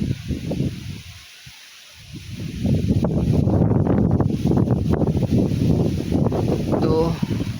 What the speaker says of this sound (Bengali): প্রচণ্ড গতিতে বাতাস বইতেছে